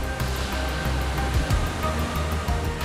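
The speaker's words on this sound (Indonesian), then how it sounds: "Air terjun yang mengalir di antara pepohonan hijau dan asri" The Betala waterfall in Deli Serdang, Indonesia, flows among green trees over a shallow river, giving a loud, steady roar of falling water that continues without a break.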